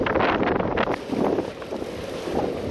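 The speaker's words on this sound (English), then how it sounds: "A bit windy though." Wind gusting across seaside rocks on a sunny day by clear water, a rushing, buffeting roar that swells and eases against the microphone.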